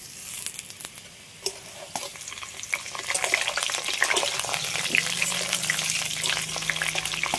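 Half-fried potatoes and a whole tomato sizzle in hot oil, a dense crackling hiss that grows louder partway through, with occasional light stirring taps.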